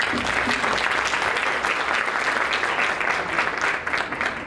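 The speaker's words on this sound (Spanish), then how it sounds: "Muchas gracias, doctor, y un aplauso." An audience at a medical congress applauds in a dense, even wash of clapping that stays loud and steady from start to finish, with little else audible.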